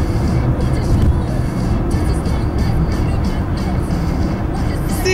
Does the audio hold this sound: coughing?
no